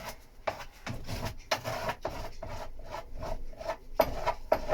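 Fibreglass resin is stirred together with catalyst, giving close, repeated scraping and rubbing strokes in an uneven rhythm with small knocks, and no one speaking.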